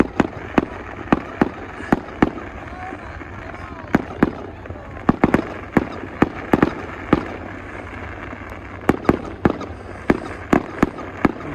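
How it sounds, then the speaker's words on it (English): Fireworks over High Level, Alberta burst as sharp, loud cracks, some single and some in quick pairs or clusters, scattered irregularly over a low outdoor rumble with faint voices between. "fireworks in high level Alberta"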